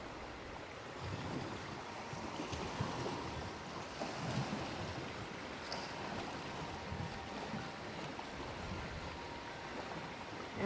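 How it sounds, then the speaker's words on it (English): Wind gusts along an ocean shore, a steady, fairly quiet rushing with surf washing underneath and occasional buffeting against the microphone, continuous throughout without speech. "We've got a windy day today."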